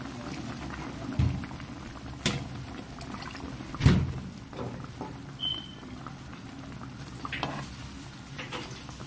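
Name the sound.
broth being poured and boiling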